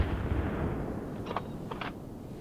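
Two or three sharp shots from hunters during a wild boar hunt ring out over steady outdoor wind noise, spaced about half a second apart and heard at a moderate distance.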